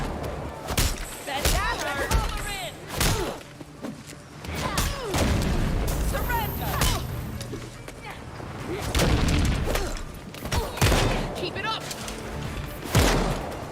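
Gunfire and booming impacts from the Gotham Knights video game come in repeated loud bursts, mixed with combat effects and game character voices talking.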